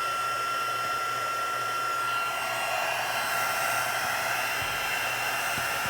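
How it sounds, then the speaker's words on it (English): A handheld heat tool blowing continuously to melt clear embossing powder on a handmade card, a steady, close, even whoosh with a faint motor whine and no breaks. "we're melting that clear embossing powder."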